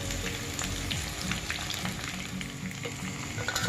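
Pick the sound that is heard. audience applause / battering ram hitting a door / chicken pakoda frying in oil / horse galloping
chicken pakoda frying in oil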